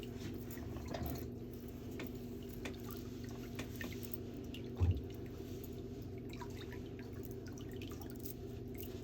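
A diabetic client's foot drops back into a pedicure water basin, giving one brief, near splash midway through an otherwise steady low hum with faint drips.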